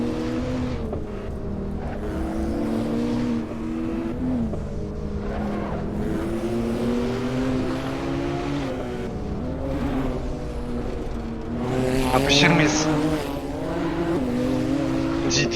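A Porsche 911 GT3 races the Nordschleife in the Assetto Corsa game, its engine a steady, loud, close drone that climbs and falls with gear changes, with a brief burst of tire squeal near the end.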